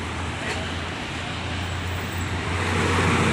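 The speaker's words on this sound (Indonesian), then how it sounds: "baru saja tiba bus Nopin 290 dari Surabaya" An ALS intercity bus, number 290 on the Surabaya to Medan route, arrives at a roadside terminal on Jalan Soekarno-Hatta in Palembang, its low engine rumble steady amid traffic noise and rising slightly toward the end, with voices talking over it.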